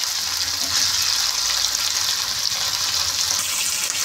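Onion pieces fry in a pan for masala egg noodles, giving a strong, steady hissing sizzle that stays even and close throughout.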